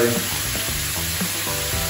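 Carbonara ingredients fry in a stainless steel pan, giving a loud, continuous sizzle with crackling spits and a faint stirring scrape, close up and alone.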